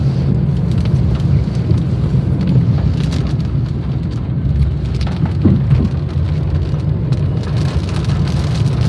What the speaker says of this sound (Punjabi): ਇੱਧਰ ਤੋਂ ਤਾਂ ਪੂਰਾ ਹੀ ਮੀਂਹ ਆ